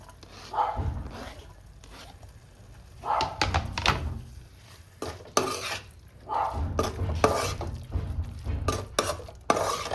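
Chopped capsicum tipped into a pan of mushroom fried rice, with several close clattering stirs and scrapes of a spoon against the pan in bursts, and a faint sizzle beneath.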